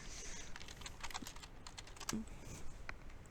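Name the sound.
typing on a computer keyboard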